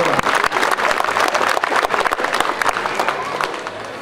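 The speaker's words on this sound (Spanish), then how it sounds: "Fuerte los aplausos para el presidente municipal" Audience applause for the municipal president at a public civic event in San Pedro Cajonos, a dense, steady crowd clapping close by.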